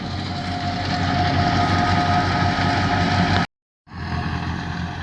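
A tractor-driven wheat thresher, an old roughly 1988-model tractor, runs steadily at a wheat harvest, a loud continuous mechanical drone with a brief cutoff before resuming.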